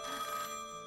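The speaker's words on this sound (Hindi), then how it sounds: "ये लीजिए, साहब का फोन भी आ गया।" A telephone rings indoors in a quiet room, a steady electronic bell-like trill sounding continuously and fairly faint with no talking over it.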